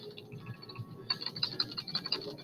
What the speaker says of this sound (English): I'm going to type this